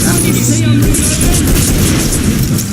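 A loud, rumbling bomb explosion in Killing Floor 2 fills the whole short stretch as one dense roar, with a voice talking over it.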